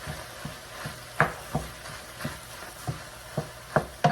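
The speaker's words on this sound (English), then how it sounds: "I'm gonna put my turkey in. And we're gonna stir that until the turkey is no longer pink." Ground turkey stirred and browning in a pot, a spoon scraping and knocking against the pot every half second or so over a soft steady sizzle, close and fairly quiet with no talking.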